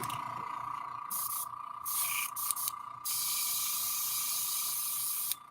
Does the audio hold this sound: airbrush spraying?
yes